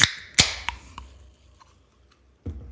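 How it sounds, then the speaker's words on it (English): A can of Dr Pepper is cracked open with a sharp metallic click, then a second crisp snap and a few small ticks before a brief quiet. A final muffled knock follows near the end. "We're gonna crack it open."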